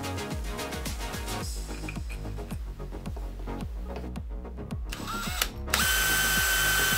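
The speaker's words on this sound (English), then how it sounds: "I'm going to fixate them on the side of the robot with this big screw" A screwdriver turns a big Phillips screw to fix a rocket pod onto the side of a scratchbuilt combat robot model, giving a close, continuous run of rapid ratcheting clicks, with a sharper, brighter scraping toward the end.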